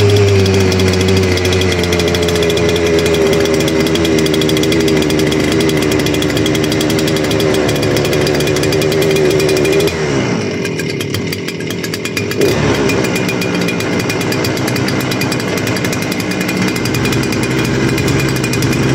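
Rebuilt STIHL FS 400 brushcutter engine running loud and close, a continuous buzzing drone that briefly dips in pitch midway before returning to full speed.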